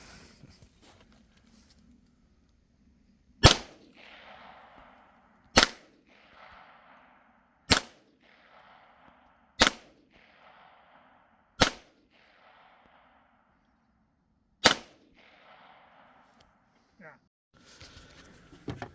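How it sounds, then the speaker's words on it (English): Guns fired outdoors, six sharp single shots spaced a couple of seconds apart, each followed by a brief echoing decay in open air, with little else between them. "Got to shoot some guns at Lauren's."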